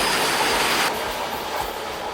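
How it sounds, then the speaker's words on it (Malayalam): Rajdhani Express running fast along the Konkan Railway, a steady loud rumbling roar of a moving train heard from onboard, with broadband hiss that drops slightly partway through as wheels and carriages keep rolling. "കൊങ്കൺ റെയിൽവേയിലൂടെ അതിമനോഹരമായിട്ട് നല്ല സ്പീഡിൽ നമ്മുടെ ട്രെയിൻ ഇതാ പാഞ്ഞുകൊണ്ടിരിക്കുന്നു"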